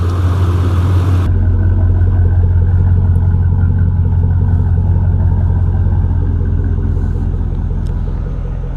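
A 5.3-liter V8 in a Chevrolet Silverado idles close by with a steady deep rumble and a faint ticking on top, after a brief louder burst at the start.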